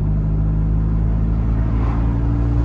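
Steady, loud rumbling drone of a tuned Audi A3 PD diesel engine held at revs, a continuous low roar with no talking.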